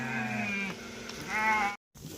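A flock of sheep bleats close by, wavering cries overlapping in two main bursts before a brief cutoff and a softer restart.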